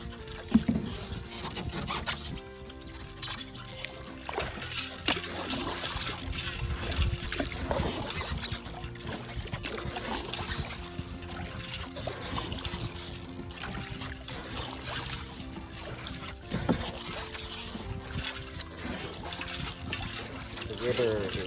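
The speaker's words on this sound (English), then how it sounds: "The river is really high and moving really fast." Fast, high river water rushes steadily past a kayak below Hoover Dam, a dense continuous wash with trickling and splashing textures close by, holding an even level for the whole stretch with no talk.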